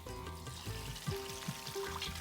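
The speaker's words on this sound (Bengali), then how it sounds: "পানি ঢেলে দেব।" Water is poured into a pot holding a lamb-leg roast with its frying oil, a soft brief pour and trickle with faint sizzling, quiet and alone.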